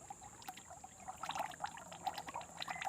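Water is poured over homemade soil clay, making a faint, close trickling and splashing that grows a little stronger toward the end, with no voices.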